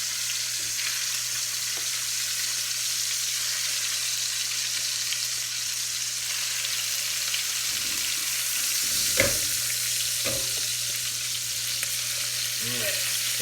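Chicken pieces browning in a hot pan with bacon fat for chicken cacciatore, a steady close sizzle throughout with a few clinks and stirring knocks toward the end.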